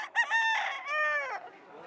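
Roosters crow loudly at a Cuban cockfighting arena, two long harmonic cock-a-doodle-doo calls following a short cluck, close and clear with no voices.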